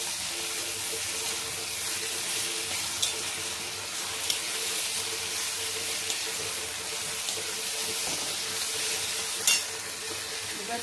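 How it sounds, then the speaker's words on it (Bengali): Ginger garlic paste frying with chicken in a hot pan, a loud continuous sizzle with occasional faint scrapes or clicks of stirring throughout. "এবার দিয়ে দিলাম এই আদা রসুনের পেস্ট"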